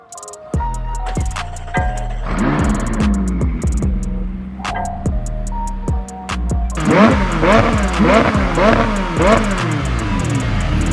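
A McLaren 600LT Spider with a 3.8-liter twin-turbo V8 is revved hard in sharp repeated blips, each rising and falling quickly, with crackles and pops between. The loud series ends in a rapid cluster of revs.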